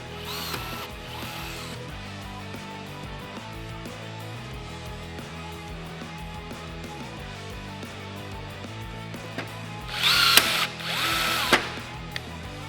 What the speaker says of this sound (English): Just this easy to drive a blind rivet. This is a 3/16".